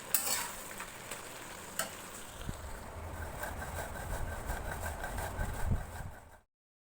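Thick melted jaggery stirred continuously in a pan for chalta (elephant apple) pickle, giving a steady close scraping and soft sizzle with a few sharper spoon knocks, no talking.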